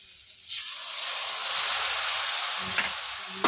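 Water splashed into potatoes frying in a hot pan for a white potato curry, bursting into a loud, steady hiss of steam and sizzle that swells and holds, with a few small pops near the end.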